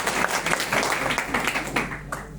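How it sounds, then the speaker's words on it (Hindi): An audience applauds in a short, dense burst of clapping at a gathering, loud and close, with a faint voice beneath. "एक बार जो है जोरदार ताली।"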